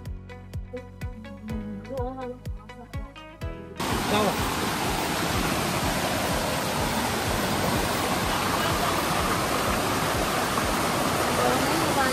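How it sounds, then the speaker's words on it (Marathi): After a few seconds of tonal music, the Vanlaxmi waterfall takes over as a loud, constant rushing roar of falling water that continues unbroken to the end. "सो आता आम्ही पोहोचलोय वॉटरफॉलच्या इथे."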